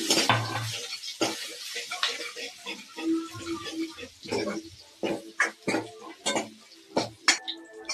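Garlic goes into chillies frying in a pan, with close sizzling, spoon-against-pan scrapes and clinks while a person talks over the cooking.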